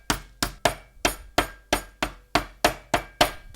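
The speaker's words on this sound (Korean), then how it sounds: "이런 망치나 무슨 뭐 방망이 같은 걸로요 이렇게 두들겨 깨세요" Whole almonds in a bag being smashed with a hammer or mallet, about ten sharp evenly spaced thuds with no talking.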